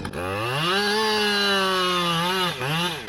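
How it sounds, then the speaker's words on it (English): A Stihl or Husqvarna chainsaw cuts into a tree during tree felling, engine loud and close, revving up and holding a strong whine before dipping briefly and climbing again. "let that saw walk into that hinge right now, okay?"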